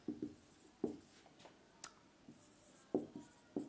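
Chalk or marker strokes on a board in a physics class, a series of short scratchy taps and rubs with pauses between, faint and close, with no talk.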